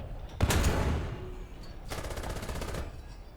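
Tank cannon fire in the War Thunder game, a heavy booming shot followed by a rapid burst of rattling automatic gunfire, both loud and close, with no talking.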